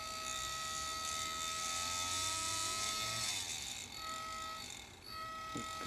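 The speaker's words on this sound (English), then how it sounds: "The turbofan motor, which I've got mocked up here." Radio control model turbofan motor running on a mock-up: a small electric whine with steady high tones that shift in pitch, dipping twice as the speed changes, close and fairly quiet with no talk.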